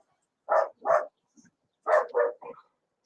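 A dog barks nearby in two separate bursts, a double bark followed by a quicker run of three barks, sharp and loud against otherwise quiet surroundings.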